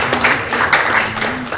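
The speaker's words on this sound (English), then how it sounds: "Give a round of applause to Daniel for that video" Applause from a workshop audience after a student's video is shown, a steady patter of clapping with a faint voice running beneath it, lasting under two seconds.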